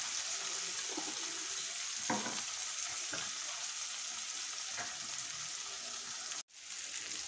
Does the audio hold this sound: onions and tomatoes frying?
yes